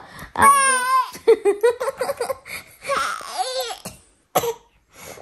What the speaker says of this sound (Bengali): এভাবে তো কাশিটা হচ্ছে, ঠ্যাক ঠ্যাক করে কাশছে।